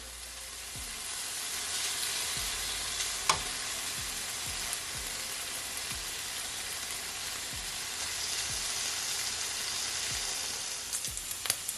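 Steady close sizzling and crackling of bacon frying in a pan, with occasional louder pops and spatters throughout.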